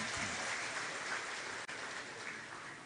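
An audience at an Indonesian religious gathering applauds, with a steady wash of clapping held at a fairly low, even level for a few seconds and no voices over it.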